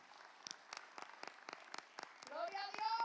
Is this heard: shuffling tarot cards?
no